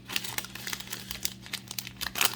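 A Yu-Gi-Oh! Rush Duel booster pack wrapper is torn open, giving close, sharp crinkling and tearing of foil plastic in quick irregular bursts, with no talking.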